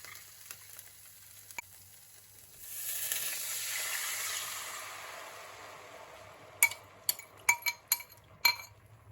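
A sauce mixture poured into a hot pot for pepper steak sets off a broad, steady sizzle that swells for a couple of seconds. Sharp clinks of a utensil against the pot follow near the end.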